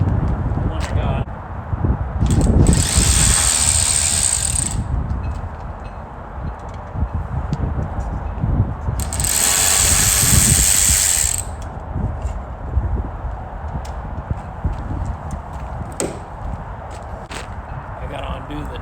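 A DeWalt 12-volt DCF503 extended-reach cordless ratchet whirs in two bursts of about two seconds each, close by and loud, while someone talks through the whole stretch.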